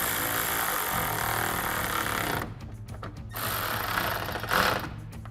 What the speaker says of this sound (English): And then take our 10mm socket and tighten these down.